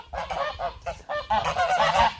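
Laying geese in a backyard garden honk loudly and repeatedly, a close, continuous chorus of overlapping nasal calls with no talk.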